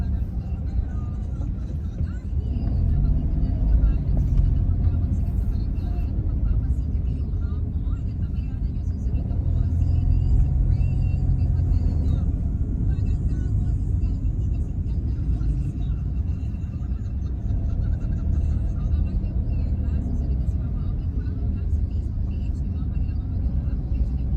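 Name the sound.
car driving on a road during a road trip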